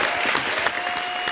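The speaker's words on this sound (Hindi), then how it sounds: "एक बार जोरदार तालियां।" A studio audience at a televised comedy roast show breaks into loud, dense applause, continuous clapping from a large crowd close to the microphone with no break.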